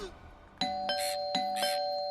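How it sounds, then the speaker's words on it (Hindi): A two-tone ding-dong doorbell rings twice in succession, bright and clear in a quiet indoor room, with no speech over it. "अरे कोई घंटी बजा रहा है"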